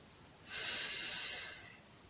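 An inhale during a leg exercise workout, one drawn-out breath rising quickly and holding steady for about a second before tapering off, breathy and close with no talking over it.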